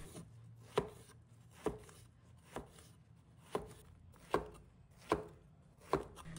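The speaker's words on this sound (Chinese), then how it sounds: "随后切滚刀块，将丝瓜切成大小均匀" A knife cuts peeled luffa gourd into even roll-cut chunks on a board, giving seven crisp, evenly spaced chops about one per second against a quiet background.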